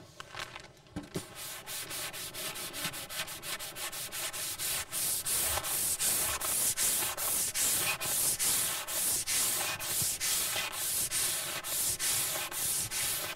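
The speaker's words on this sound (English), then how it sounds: "So I need to sand down and keep going in this area all the way across this panel with a larger block" A large sanding block scrapes back and forth across a car body panel in cross-hatching strokes, giving a loud, rhythmic series of rasping rubs, steady and close, with no voices.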